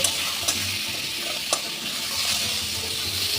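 Radish pieces frying with salt and turmeric, a dense, even sizzle close by with two brief stirring clicks, no voices.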